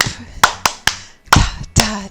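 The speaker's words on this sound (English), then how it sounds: "All right, let's clap." During a laughter yoga class, hands clap six times in sharp, loud strikes with an uneven rhythm, close to the listener.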